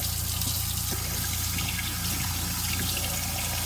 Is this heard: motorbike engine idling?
no